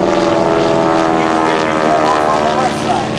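An aerobatic propeller airplane flies a loop at an air show, its engine roaring loud and steady close by, with a slight drop in pitch near the end.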